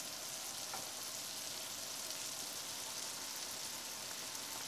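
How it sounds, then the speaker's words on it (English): Beef strips sizzle steadily in a hot pan for Indian-style beef pepper fry, a faint, even hiss of frying with no voices. "Then add the beef strips onto the pan."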